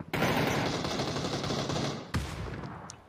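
Rapid automatic gunfire in the battle royale game PUBG during a competitive esports match, a sustained loud burst of shots that breaks off, then one sharp report and scattered quieter shots, with no talk.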